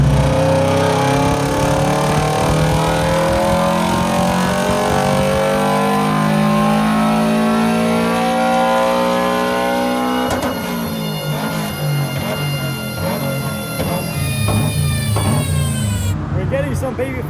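A stock Subaru engine making about 340 horsepower revs hard on a dyno, rising through long sweeping pulls with a sharp drop midway and another climb, loud and close, with voices talking underneath.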